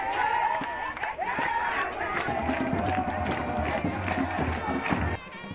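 An enthusiastic crowd waits in the sub-prefecture of Pacobo, its steady outdoor chatter and cheering continuing throughout, with scattered footsteps and voices close by.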